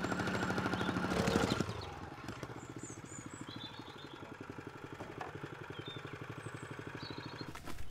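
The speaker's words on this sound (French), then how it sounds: "De nouveau avec la dame vibrante et compacte le tout." A vibrating plate compactor tamps down a gravel ballast layer for a dry stone wall base, giving a steady, close, rapidly pulsing engine drone after a louder burst at the start.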